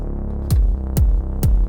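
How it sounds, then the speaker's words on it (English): Three deep techno kick drum hits land evenly about half a second apart, each a punchy thump with a falling pitch, over a steady low droning synth bed. "Let's kick in that kick again."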